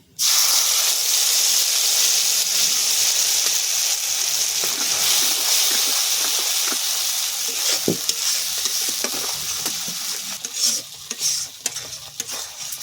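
Dry red chillies and black cumin seeds sizzle loudly in hot oil, a steady close crackling hiss for the whole stretch, with a few sharper spits and pops toward the end.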